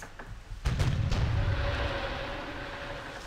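A ship's cannon fires in the pirate video game Sid Meier's Pirates!, giving one deep booming shot that rolls into a long rumbling decay.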